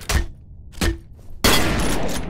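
Gunfire strikes thick bulletproof glass in the video game FEAR: two sharp separate shots, then a loud sustained burst of rapid fire with dense clattering impacts, close and with no voices.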